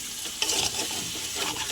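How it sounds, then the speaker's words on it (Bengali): A spoon scrapes and stirs chicken curry with yogurt in a hot pan, a brief close burst of sizzling with a sharp scrape near the start, no voices. "আমি এবারে একটু নেড়ে চাপা দিয়ে দেবো"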